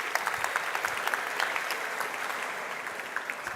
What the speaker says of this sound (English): Big round of applause for Daniel and Lucy.